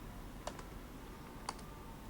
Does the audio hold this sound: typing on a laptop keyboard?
yes